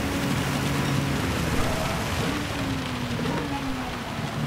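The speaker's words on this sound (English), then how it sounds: "Just the last crescendo of heavy rain before we can see" Heavy rain in Gran Turismo 7 at Spa, Belgium, a steady broadband hiss from a Nissan GT-R Nismo LM race car's cockpit view, with a low droning engine tone weaving up and down beneath the downpour throughout.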